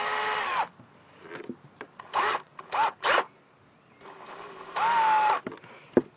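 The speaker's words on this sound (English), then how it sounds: "I'm using screws to attach it with" Power drill driving screws into wood while building a turtle enclosure, several loud whirring bursts of varying length with short pauses between, close and clear, with no talking.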